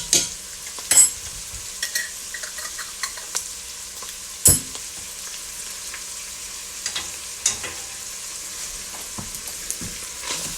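Minced garlic fries in a pot for black-eyed pea and sausage chili, a quiet sizzle broken by sharp clinks and scraping stirs of a utensil against the pot.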